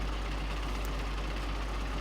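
Tractor engine idling in Farming Simulator 2013, a steady low rumbling drone with a faint, even mechanical pulse, holding constant level throughout with no talk.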